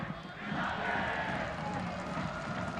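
A large stadium crowd at a professional soccer match between San Diego Loyal SC and Phoenix Rising FC rises into a broad, swelling roar, with a commentator's voice running over it.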